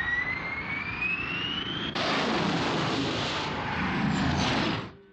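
Angel interceptor jets launching in Captain Scarlet, heard as a rising whine that cuts into a loud, sustained jet roar lasting several seconds before dropping away at the end; no talk.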